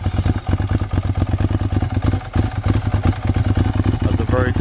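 Ducati Monster motorcycle with a new aftermarket Mivv exhaust, a loud, close, lumpy pulsing rumble running steadily throughout, with a brief change in tone near the end and speech mixed in.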